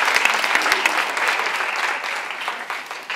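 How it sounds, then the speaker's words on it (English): A live audience claps steadily for a panel discussion on gender expression, a dense wash of many hands applauding at close range for about three seconds with no talking over it. "A round of applause for our panel,"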